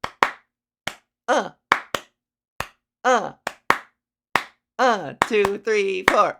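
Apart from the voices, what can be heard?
rhythmic hand clapping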